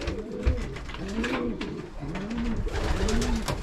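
Racing pigeons coo in a soft, repeated rhythm of throaty rolling calls, close by and fairly quiet, with some light handling noise and no talking.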